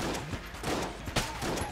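Several booming cannon shots go off in quick succession in the video game Enter the Gungeon. The blasts are loud and closely spaced, with no speech over them.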